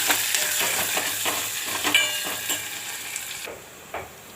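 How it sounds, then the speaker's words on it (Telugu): Onions and green chillies fry loudly in a pan for a potato curry served with puri, the crackling sizzle broken by rhythmic stirring scrapes before it suddenly drops quieter near the end. "ఆ తర్వాత ఉల్లిపాయలు, ఉల్లిపాయలు పచ్చిమిరపకాయలు వేసుకోవాలి."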